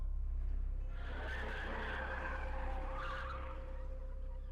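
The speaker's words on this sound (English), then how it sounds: "a truck cab came crashing into the parking lot. Came to a screeching halt" A truck cab skids into a truck stop parking lot, tires screeching loudly across the pavement for a few seconds over a low engine rumble before fading, with no voices.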